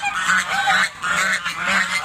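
A flock of farm geese honks in repeated, overlapping bursts, loud and close, with no talking.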